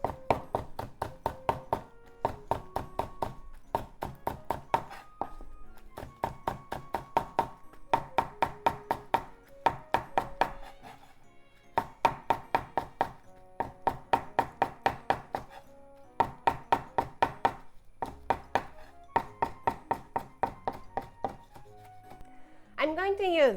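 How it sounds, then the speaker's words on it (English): A knife cuts thin slices of halved green onion on a cutting board, sending out quick runs of crisp taps in steady bursts with short pauses between them. "Cut them into half, put them together. And let's just make thin slices."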